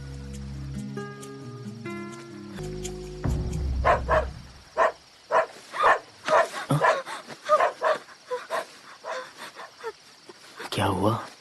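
A dog barks repeatedly outdoors in a camping scene, a run of sharp, fairly close barks in an irregular rhythm after a brief burst of music, with a voice briefly heard at the end.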